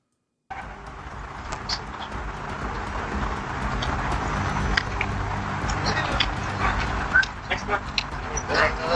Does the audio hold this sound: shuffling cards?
no